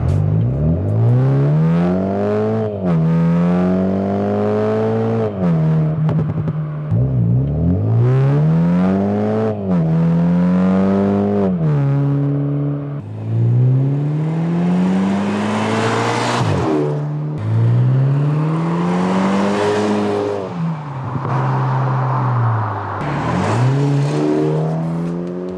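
A BMW engine revs repeatedly through a loud track exhaust, climbing sharply in pitch then dropping back to idle, several rising blips in sequence.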